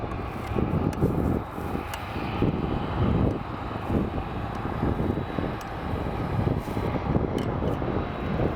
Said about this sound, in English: And then we got the 737-800 taxiing.